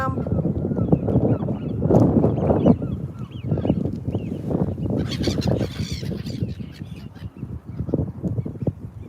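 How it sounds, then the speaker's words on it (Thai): A flock of ducks and geese honking and quacking on water, continuous overlapping calls with strong wind noise and some faint voices. "ดูเป็ดค่ะ ในน้ำนู่นดำ ๆ"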